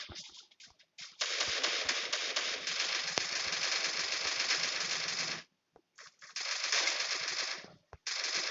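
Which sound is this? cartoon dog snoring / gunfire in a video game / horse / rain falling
gunfire in a video game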